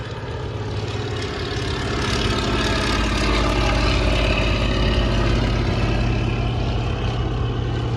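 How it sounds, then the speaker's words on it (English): A Catalina flying boat slowing for its base leg approach to land at an airshow, its piston propeller engines droning steadily and loudly, swelling slightly after the first couple of seconds and holding a constant heavy hum. "it's a lovely sight of the Catalina just slowing itself down to make its base leg approach to land."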